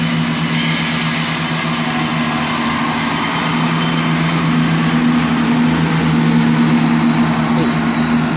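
A train pulls out of platform 2 at Cardiff Central station, a loud, continuous engine drone with a steady hum and rumbling wheels that persists throughout, with no voices.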